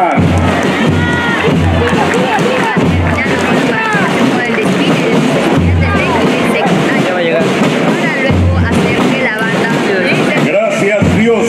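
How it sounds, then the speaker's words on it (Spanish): A crowd cheers and shouts at a secondary-school parade in Cayma, Arequipa, with loud, dense, continuous voices, whoops and children's shouts, and an amplified announcer talking over the noise. "El aplauso para el colegio Maita Capa."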